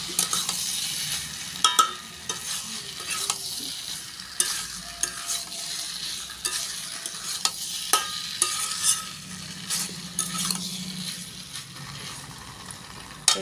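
Potatoes and pointed gourd are stirred together in hot oil in a pan, giving a continuous sizzle with scattered scraping clinks from the spoon, moderately loud and without voices.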